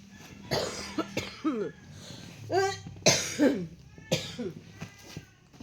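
Several harsh coughs come in bursts, close and fairly loud, separated by short pauses.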